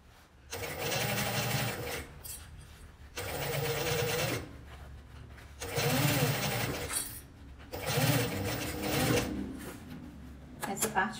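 A sewing machine stitches bias binding in bursts of roughly two seconds each, a loud, close mechanical whir that starts and stops four times, with short quiet gaps between the runs.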